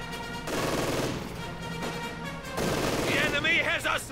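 Light machine guns and mortars firing in a Company of Heroes 2 battle: dense, continuous rattling gunfire with overlapping bursts, loud and sustained, with a commentator talking over it.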